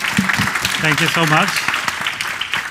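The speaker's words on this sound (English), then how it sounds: "with a round of applause" A crowd applauds at a talk on data careers, a steady wash of clapping that runs under a speaker's voice from start to finish.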